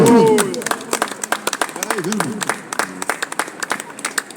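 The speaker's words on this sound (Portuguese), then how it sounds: "você dê uma salva de palmas para Cristo" A church congregation claps for Christ, scattered then rhythmic hand claps ringing out close by as a voice carries over them.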